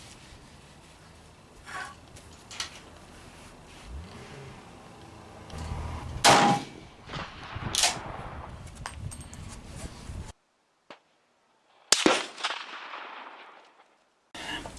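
Swiss K31 rifle firing at an outdoor shooting range: a few loud, sharp reports, each with a short decaying tail, spaced several seconds apart over low ambient noise and faint background activity.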